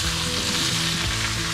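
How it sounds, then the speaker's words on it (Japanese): Wood ear mushrooms stir-frying in a hot pan at a rainy forest campsite, a loud, close, continuous sizzle with crackling oil and the scrape of stirring throughout. "よし、これで炒めていこう。"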